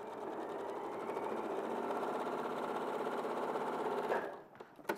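A sewing machine runs stitching fabric around a 14½ to 17½ inch shirt collar, giving a steady, close, continuous whirring hum for about four seconds before it stops abruptly.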